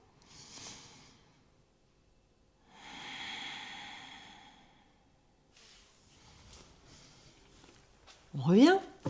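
Deep, slow breaths during an exercise session with a brick prop, soft airy inhales and exhales separated by quiet pauses, a close rustle at the end.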